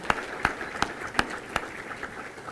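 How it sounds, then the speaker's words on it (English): Chamber of commerce luncheon audience clapping: a handful of sharp, evenly spaced claps that soon thin into a faint patter. "Round of applause for our platinum."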